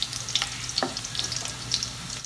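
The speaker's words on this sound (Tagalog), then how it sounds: "hintayin natin mag-golden brown ang ating garlic" Garlic frying in a pan until golden brown, a steady close crackling sizzle with small popping spatters, alone without talk.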